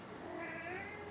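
A house cat lets out a single faint, drawn-out meow, rising and holding its pitch, over quiet room hiss.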